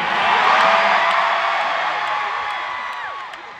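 Concert crowd at a show cheering, whooping and screaming loudly and continuously in a large venue, slowly fading over a few seconds.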